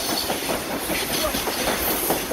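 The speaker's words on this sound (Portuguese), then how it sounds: "Como esse trem acabou de passar." A train rumbles past close by, a loud continuous roar with rhythmic clattering wheels and hiss throughout.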